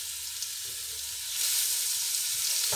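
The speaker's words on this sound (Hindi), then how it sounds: "तेल गर्म हो गया, अब हम डालेंगे लहसुन जो कूट के रखा हुआ है" Crushed garlic fries in hot oil in a pan, a dense, steady, close sizzle and crackle that swells a little louder as it goes on and holds without a break.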